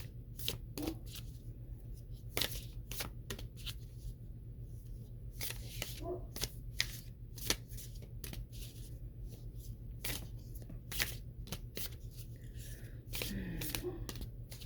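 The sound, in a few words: shuffling Work Your Light Oracle cards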